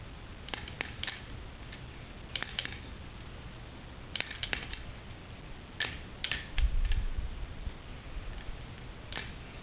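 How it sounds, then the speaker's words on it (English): Ten small 3/8-inch chrome ball bearings drop into a smooth 1 1/4-inch PVC end cap, making scattered sharp metallic ticks and clicks in short clusters over a soft background hiss, with a low thump partway through. "drop 10 3/8 chrome ball bearings into this 1 1/4 inch smooth PVC end cap"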